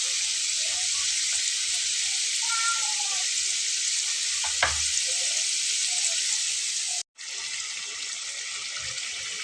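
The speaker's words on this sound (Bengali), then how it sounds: "স্ন্যাক্সগুলোকে একটু বারবার উল্টে পাল্টে ভেজে নিলে কিন্তু ভাজাটা মুচমুচে হবে" Potato snacks deep-fry in hot oil with a loud, continuous, bubbling sizzle heard up close, cutting out for an instant near the end before resuming.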